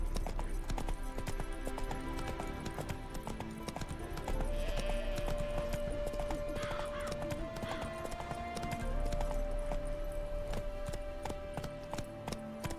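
In The Witcher 3 video game, the horse Roach gallops with a steady, rapid clip-clop of hooves, joined partway through by a drawn-out whinny over constant background sound.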